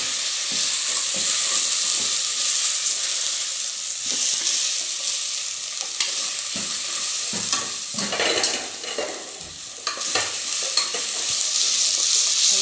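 Coriander leaves sauté in a pan for mushroom biryani, with a continuous close sizzle and hiss under repeated scraping spoon strokes that stir the pan throughout.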